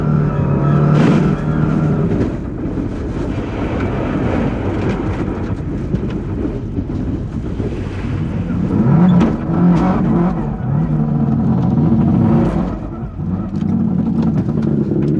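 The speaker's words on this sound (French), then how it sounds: "les Leblanc ouvrent un peu plus la machine, visant à reprendre la première place avant la ligne d'arrivée." Rally car pushing hard on a snowy rally stage, its engine revving loudly and continuously with rising and falling pitch as it accelerates close by, no talk over it.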